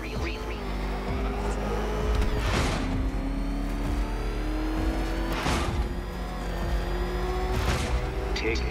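The Batmobile's engine in Batman: Arkham Knight drones and revs steadily under a constant mechanical rumble, with occasional louder whooshing surges, while a voice talks over it.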